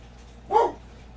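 A dog gives a single short bark at moderate distance, a brief burst rising out of a quiet room with no talking.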